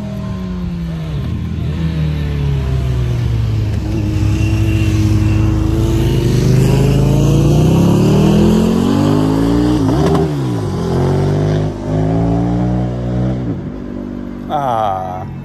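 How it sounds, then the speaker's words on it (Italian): Motorcycle engines roar and rev loudly as they arrive on a mountain road at a bikers' rally in Bema, Italy, passing nearby, pitch rising and falling continuously with no talking. "Il suono delle moto in montagna."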